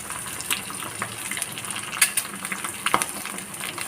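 Eggs cracked into a hot pan of meal maker rice sizzle and fry steadily, with a few brief clinks and stirring scrapes over the continuous crackle, close and moderately loud with no talking.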